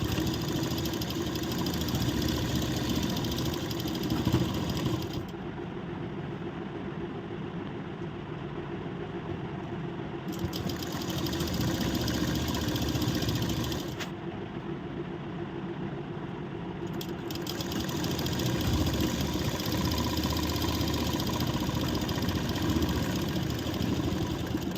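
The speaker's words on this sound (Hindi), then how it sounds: "तो अभी बॉटम पे सिलाई लगाते हैं।" A sewing machine runs steadily, stitching along the bottom hem of a princess cut blouse, a continuous mechanical whir at moderate level with brief pauses and restarts, with no talk.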